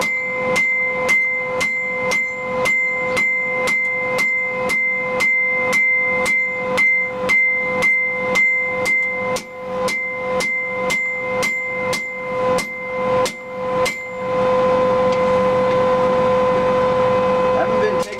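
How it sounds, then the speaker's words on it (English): Steady, rhythmic hammer blows ring on hot steel while forging a utility fighting knife, about two strikes a second, loud and close, ending in a continuous hiss or grinding wash. "You have to get out and pound some steel yourself"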